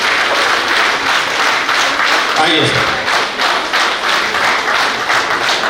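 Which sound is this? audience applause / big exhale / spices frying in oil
audience applause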